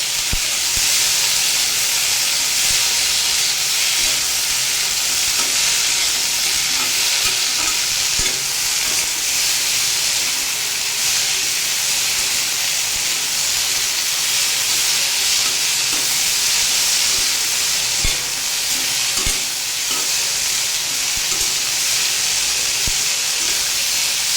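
Okra, potato and corn frying in a pan, a loud, dense, unbroken sizzle and hiss close by, with occasional stirring clicks across the whole stretch.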